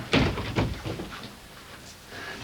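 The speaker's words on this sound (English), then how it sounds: "Let's close the door." An indoor door shuts with a couple of close thuds and clunks near the start, then the room settles into quiet.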